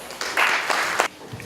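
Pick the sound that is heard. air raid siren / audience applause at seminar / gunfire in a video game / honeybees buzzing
audience applause at seminar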